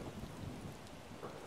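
Stormy weather in Animal Crossing: New Horizons, with steady rain and low thunder rumbling throughout and a brighter crack near the end, all at an even, moderately loud level.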